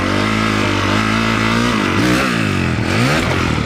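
Motocross bike engine revs hard in a low gear as the rider accelerates late up a jump face, a loud, close, continuous snarl whose pitch climbs and dips.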